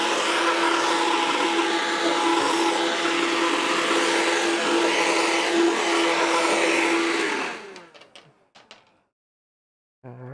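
A small spider vacuum cleaner sucks acrylic box shavings off a tabletop with a loud, steady whooshing roar, then winds down and cuts off, followed by a few faint clicks.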